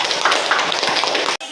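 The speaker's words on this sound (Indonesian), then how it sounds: "Oke, tepuk tangan untuk kelompok 1." A classroom of students claps for a presenting group at school, dense overlapping hand claps close and loud, stopping abruptly near the end.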